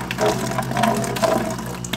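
Water churns and splashes steadily with a gurgling rush from an airlift pump pushing a strong flow, with a low hum underneath.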